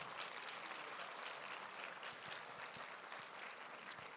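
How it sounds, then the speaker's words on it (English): An audience at the Lunch for Literacy 2022 luncheon claps for the event sponsors, a sustained, even round of applause from a crowded room, filling the moment without voices on top. "Huge round of applause for all these fabulous sponsors."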